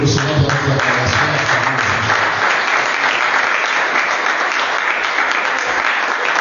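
Steady, loud applause from a church congregation welcoming Elder Ali Andjembe, dense and continuous for the whole stretch, with faint voices under it at the start.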